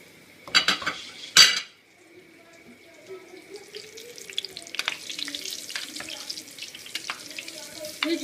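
Koftas and potatoes sizzle and are stirred in masala in a pan, with a couple of sharp utensil clanks near the start followed by steady, crackling frying.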